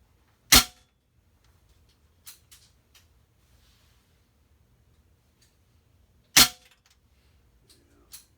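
Two sharp, isolated shots from Notos and P-rod air rifles fired at indoor targets, a few seconds apart, each a crisp close crack followed by faint clicks and handling noise in a quiet room.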